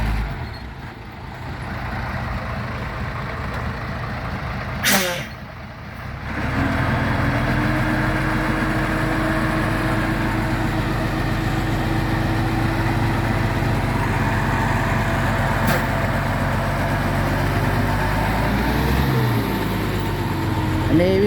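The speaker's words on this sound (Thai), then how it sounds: "รถไถก็ใช้ ฟอร์ดครับ 7710" A Ford 7710 tractor engine runs steadily at a low, rumbling idle near a pond bank, with a brief sharp knock early on before the drone settles into a constant, fairly loud hum with no talking.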